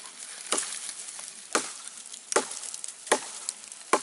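A UST hatchet chops into wood in five sharp, separate strikes about a second apart, each a crisp, close impact against a quiet background.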